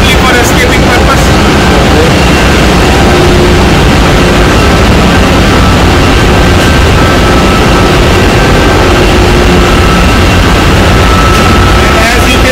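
A ship's main engine runs in the engine room, a loud, unbroken low drone with machinery whine throughout and no pauses.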